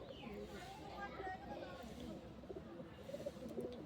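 Healthy Giribaz and Madras pigeons coo softly in a loft, faint low calls running under a person talking nearby.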